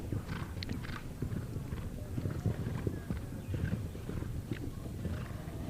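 Horse hooves clip-clop steadily across a show jumping arena at a championship event, a dense rhythmic thudding under constant background noise, with faint voices in the mix.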